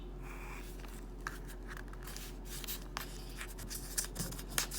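Pen strokes scratch across paper in short, irregular bursts while lines are drawn, faint and close against a steady low electrical hum.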